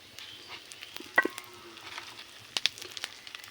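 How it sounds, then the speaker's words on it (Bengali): Panch phoron whole spices hit hot oil for a mango pickle, giving faint, crackly bursts of sizzle and spitting, with two sharper pops partway through, no voices. "তেলটা গরম হয়ে গিয়েছে, এখন ফোড়নে দেব পাঁচফোড়ন"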